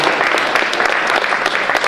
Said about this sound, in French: On peut les applaudir pour leur participation.